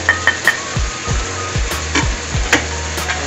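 Kimchi, pork and potatoes being stir-fried with kimchi paste in a pan, steady loud sizzling with repeated scraping strokes of a utensil against the pan in an uneven rhythm.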